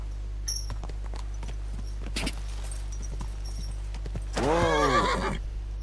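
A horse whinnies near the end in Kingdom Come: Deliverance 2, a drawn-out, wavering neigh rising over a steady ambient hum, after a few soft hoof clops and faint thuds earlier on.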